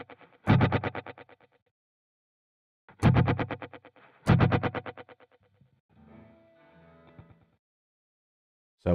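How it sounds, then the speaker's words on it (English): Guitar run through a digital emulation of tape echo: three loud strummed chords ring out with trailing rhythmic repeats, followed by a quieter wash of decaying echoes. "This tape echo, and I wanted to get that same thing digitally"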